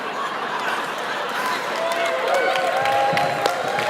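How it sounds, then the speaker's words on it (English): Audience applause and cheering at the 2018 Madison Area Music Awards ceremony, a steady crowd wash of clapping and chatter throughout, with a sustained tone emerging faintly underneath. "Pause for applause."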